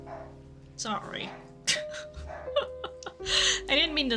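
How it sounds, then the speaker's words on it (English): A pet dog barks and yips in several short bursts indoors, close by, mixed with a person talking and laughing over faint game music. "Also, my dog is barking."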